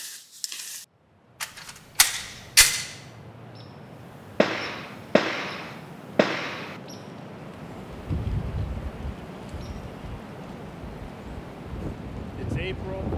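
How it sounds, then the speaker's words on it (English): Gunfire echoing across the windy Loess Hills of Iowa in April, with about eight sharp distant shots in an irregular series and then steady rushing wind noise; a voice speaks briefly. "Even with the gunfire."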